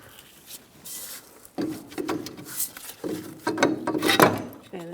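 A nut being removed from an air spring on a 2007-2017 Ford Expedition, heard as close metallic ratcheting and clicking in short bursts, with a few scrapes and knocks between them, fairly quiet, and no voice.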